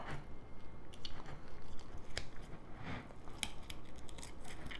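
A whole chicken being cut apart with poultry shears or a knife: close, quiet crunching snips and cracks in irregular bursts over a soft background hum, no speech.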